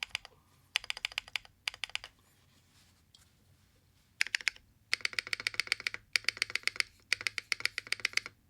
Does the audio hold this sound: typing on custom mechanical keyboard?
yes